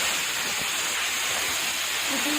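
Steam hisses steadily out of a pressure cooker after its whistle is taken off while mutton cooks for Kabuli pulao, a broad continuous rush with faint clinks beneath it.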